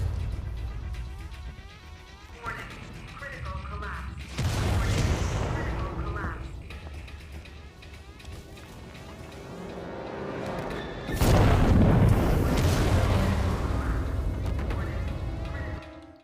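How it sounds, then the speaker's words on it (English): Explosions in the video game Alien Isolation come as two big, loud booming blasts. Each rolls out over a continuous deep rumble and layered game background noise. "the explosions are very loud"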